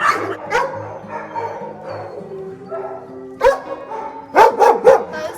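Dogs in zoo enclosures bark and yip in bursts, some close and loud, others whimpering, with tonal hum in the background.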